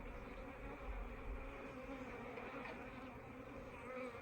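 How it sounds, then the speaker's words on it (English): Honey bees in an open hive hum in a dense, continuous drone, a soft steady buzz of many insects close by with no voices. "these bees are acting very gentle"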